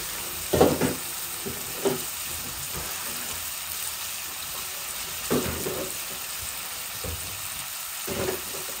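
Cauliflower and potato frying in a pan, a steady close sizzle broken by occasional louder bursts of stirring and scraping at irregular intervals.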